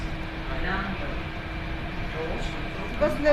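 A metro train hums and rumbles steadily in motion while people talk over the droning ride noise.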